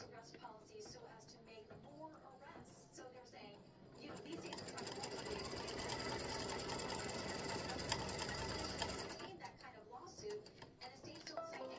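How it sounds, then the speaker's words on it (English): Embroidery sewing machine stitching a tack-down line over fabric for a baseball appliqué, a rapid steady mechanical chatter that swells and holds for several seconds, with a person talking before and after. "So I'm going to put my fabric over that placement stitch and stitch the tack down."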